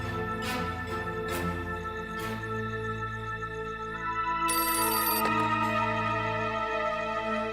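Telephone ringing while calling the police, a steady repeating electronic ring pattern with a brief brighter tone partway through, loud and continuous with no voices.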